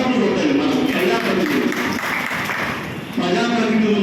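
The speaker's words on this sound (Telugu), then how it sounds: "నిజంగా గట్టికి చప్పట్లు కొట్టాలి" Audience applause at a charity organisation's public event: a steady wash of clapping from a crowd, fairly loud and sustained, with a voice speaking over it.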